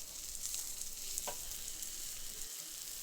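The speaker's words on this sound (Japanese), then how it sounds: "キュイスの方を押さえつつじっくりと火を入れていきます。" Quail legs sear on a well-heated grill plate while being pressed down, giving a faint, steady sizzle with soft crackles throughout.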